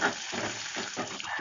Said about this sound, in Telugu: ఉల్లిపాయ బాగా ఏగనియాలన్నట, ఎర్రగా ఏగాలి